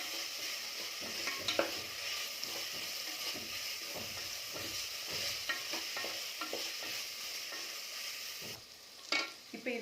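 Ginger garlic paste fries in a pan for coconut milk rice, a soft continuous sizzle with repeated scraping strokes of a spoon stirring it, fairly faint and without speech.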